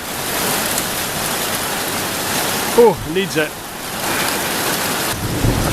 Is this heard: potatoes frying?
no